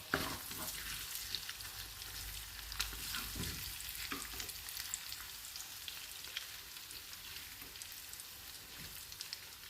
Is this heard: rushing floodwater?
no